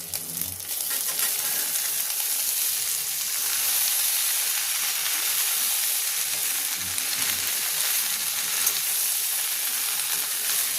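Steady crackling sizzle of eggplant, potato, flat beans and hilsa fish head frying in hot oil, continuous and fairly close, with no talking.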